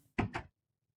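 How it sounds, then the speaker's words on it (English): A Minecraft door opens or closes with two quick wooden clunks in rapid succession, followed by silence. "I heard a door and I'm the only one on the server."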